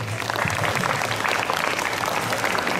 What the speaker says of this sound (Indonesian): tepuk tangan kita semuanya.